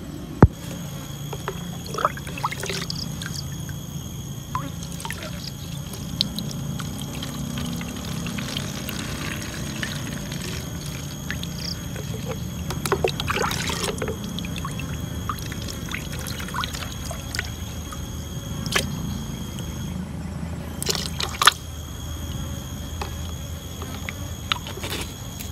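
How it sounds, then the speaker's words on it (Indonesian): Fermented chicken-manure liquid fertilizer made with EM4 and sugarcane molasses is poured into bottles, a soft trickling stream broken by sharp clinks and taps of containers, close and fairly quiet. "Nah, ini airnya siap disimpan ke dalam botol."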